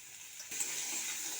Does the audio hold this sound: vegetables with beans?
yes